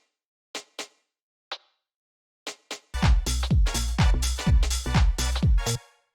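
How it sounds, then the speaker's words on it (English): Two rim shot percussion samples from a classic house track play alone as a few dry, sharp clicks, then the full loop kicks in with a driving, steady groove. "The next thing that we have here are these 2 rim shots"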